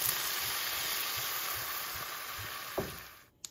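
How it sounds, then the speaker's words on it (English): Beer poured into a pan of caramelizing onions and butter sets off a steady, close, broadband sizzle that runs unbroken, with a soft clink near the end and no talking. "So now I'm going to add the beer."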